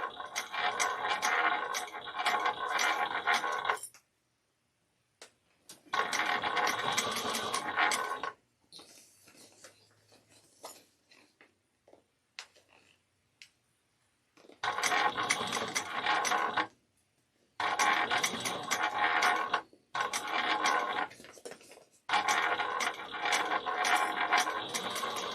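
A sewing machine top stitching a bag runs in several loud bursts of rapid mechanical clatter, separated by short pauses and a quieter stretch of faint handling noise in the middle.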